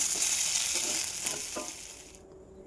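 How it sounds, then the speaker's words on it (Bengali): Fish pieces frying in oil in a home kitchen pan, a steady close sizzle with crackling spits, fading out near the end. "মাছ ভাজাগুলো বসিয়ে দিয়েছি"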